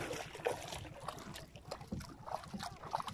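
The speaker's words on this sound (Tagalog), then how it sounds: "Sagwanin natin pa papunta doon" A small fishing boat paddled on a current-swept stretch of water, with soft rhythmic paddle strokes and faint splashes under light wind noise, fairly quiet and close by.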